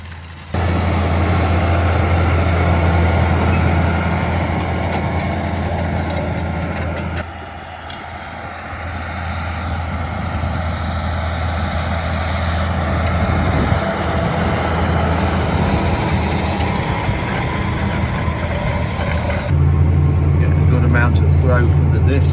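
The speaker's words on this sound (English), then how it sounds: "This tractor is a 7R, 350 horsepower, 9-metre cultivator." A John Deere 7R 350 hp tractor pulls a 9-metre Vaderstad cultivator through a field at about 7 mph, its engine droning low and steady throughout with continuous broadband soil and machinery noise, close and loud.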